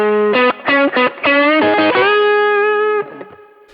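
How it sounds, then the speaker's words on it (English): Slimmed-out distorted electric guitar lead on a Kemper drive, playing several quick choppy notes and bends, then a long sustained, slightly wavering held note that fades, loud with no talking. "now I can use here a very slimmed out lead sound."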